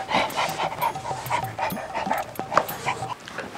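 A dog outside a village house pants rapidly in quick breathy bursts, close by and moderately loud, with a few faint whimpers mixed into the steady rhythm.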